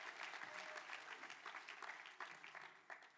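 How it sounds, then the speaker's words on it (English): Church audience at a revival concert clapping steadily and densely for a few seconds, a sustained wash of hands filling the room with no clear talk over it. "Come on, give the Lord a clap."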